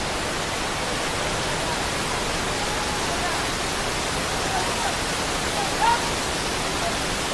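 Cambugahay Falls on Siquijor Island in the Philippines rushes as a steady, dense broadband roar of falling water, constant and close, with a faint brief voice barely rising above it.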